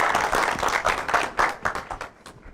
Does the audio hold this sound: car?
no